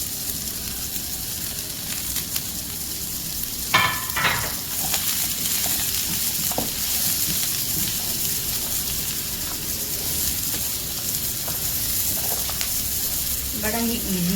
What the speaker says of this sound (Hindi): सारे वेजिटेबल डाल के थोड़ा सा सौटे करेंगे